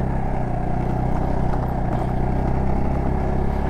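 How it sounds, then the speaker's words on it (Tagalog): Mio Sporty carbureted motorcycle riding over a rough road, its storage box rattling and clattering continuously over a steady low engine drone, loud and close throughout. "Ang ingay ng box ko"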